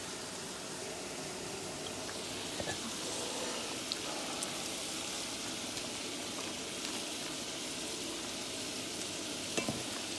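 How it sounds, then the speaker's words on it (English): Rotel dip sizzling in a hot pan while being stirred, a constant close hiss and bubbling with faint scraping, steady and unbroken, without any talking. "You wanna stir that around."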